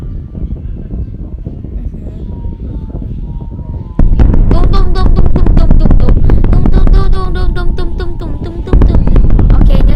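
Dense bursts of booming explosions in the game WorldBox erupt after a few seconds of a lower rumbling, continuing loudly and continuously with crackling blasts layered throughout.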